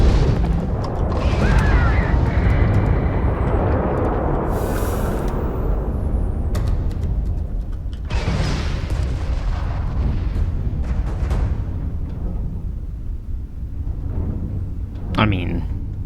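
Spaceship weapons fire and explosions in a Starfield space battle against a Crimson Fleet pirate ship: a dense, continuous roar of booms and blasts with heavy low rumble throughout, and speech over it.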